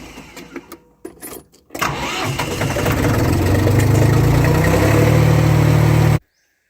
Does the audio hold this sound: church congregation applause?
no